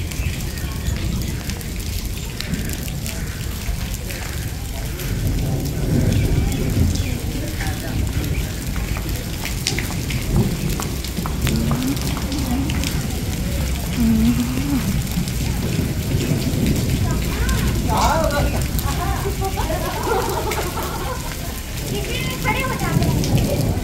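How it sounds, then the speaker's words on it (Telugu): Heavy rain pours down continuously at close range, a dense steady hiss with low rumbles of thunder beneath, alongside occasional faint voices. "ఫుల్ రైన్ అయితే పడుతుంది ఇక్కడ, కంప్లీట్ రైన్."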